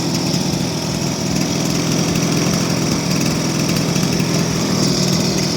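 A small gasoline engine fitted to a converted pedal go-kart runs steadily at high revs, a loud, buzzing drone with a rattly lawn-mower-like timbre, close and continuous without pause.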